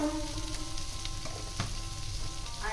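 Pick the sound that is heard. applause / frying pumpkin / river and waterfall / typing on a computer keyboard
frying pumpkin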